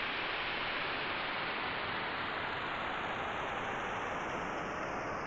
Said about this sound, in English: White noise I had a lot of fun with.